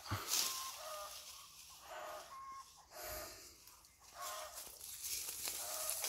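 Chickens scratching and clucking among flowering lychee trees on a hillside farm in Luc Ngan, with soft repeated clucks and rustling spread through a steady outdoor background and no talk.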